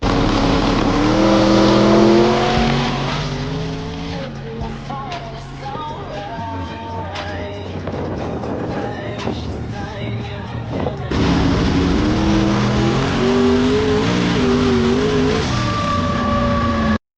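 A Chevrolet Nova race car on a track test run roars through gears, the engine note climbing and dropping in repeated revving sweeps, loud and close, with a steadier drone in the middle stretch.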